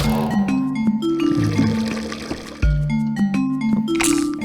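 Water draining and gurgling in the indie video game Donut County, with liquid pouring and dripping sounds over soft game music tones, fairly close and steady with a sudden splash partway through.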